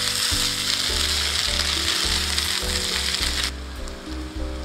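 Loud, steady sizzling of egg Manchurian stir-fried on a high flame, with rhythmic scraping and stirring strokes pulsing through the hiss before it eases near the end.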